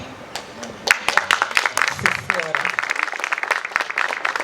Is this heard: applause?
yes